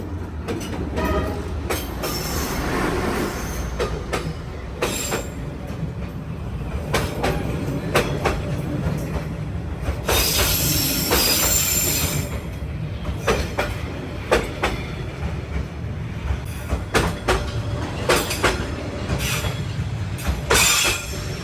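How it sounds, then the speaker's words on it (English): A train rolls through Hanoi's narrow Train Street, a loud close pass with a continuous rumble, clattering wheels and occasional squeals lasting the whole stretch, with no talk over it. "So the train just went by"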